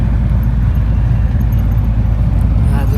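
A vehicle driving along a highway in Rajasthan gives a steady, loud, close low rumble of engine and road noise that holds without a break throughout.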